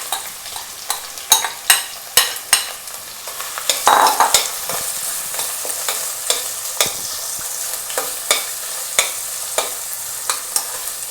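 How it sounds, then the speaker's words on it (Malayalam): Chopped onions going into hot oil with cumin seeds, a loud close sizzle broken by a regular series of sharp spoon-against-pan stirring knocks, about one or two a second. "സവാള ഇട്ട് കൊടുക്കുക."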